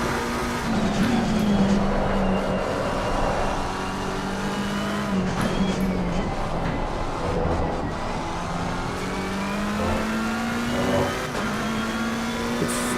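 A GT race car engine in Assetto Corsa Competizione, on the Nurburgring GP circuit while chasing an Audi, drones steadily and loudly, with its pitch rising and falling through gear changes and corners and occasional tyre squeal.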